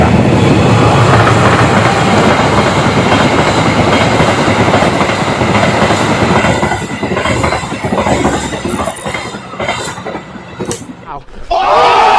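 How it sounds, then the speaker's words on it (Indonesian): A train passes close by with a loud continuous rumble and rhythmic clatter of wheels on rails, then fades out toward the end as people talk. "Sana ada kereta guys."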